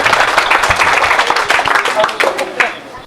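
An audience applauds for event sponsors at a public gathering, a dense, steady patter of many hands clapping throughout, fairly loud and close, with some crowd murmur mixed in.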